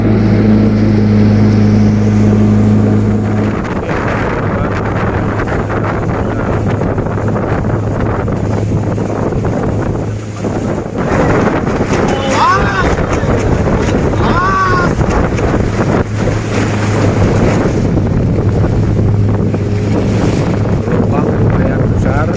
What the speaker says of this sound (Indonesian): Gelombang lumayan besar karena anginnya juga besar, cuacanya lumayan.